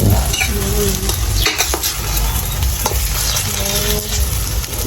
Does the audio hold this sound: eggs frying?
yes